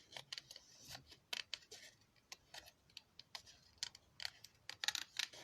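Scissors snipping through craft paper in a crafting studio, a steady run of quick, crisp, close snips with brief pauses, faint and alone.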